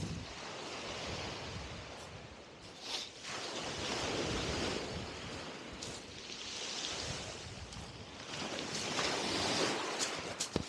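Wind gusts steadily across a rocky beach on the Sunderland coast with surf behind it, making a broad, rough roar that swells and fades in buffeting waves and buffets the microphone throughout, with no voices.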